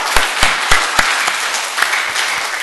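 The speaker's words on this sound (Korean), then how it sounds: "우리 하나님 앞에 먼저 영광의 박수 한번 올려드리십시다." Church congregation clapping together in praise during a Korean worship service, a fairly loud crowd of hands with a few sharp, near claps standing out in loose rhythm.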